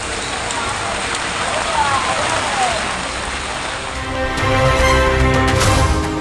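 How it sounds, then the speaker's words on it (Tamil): Rain falls steadily across a Tamil Nadu district during an overnight downpour, a dense broadband hiss that swells louder toward the end. "கடலூர், நீலகிரி உள்ளிட்ட மாவட்டங்களிலும் மழை பெய்தது."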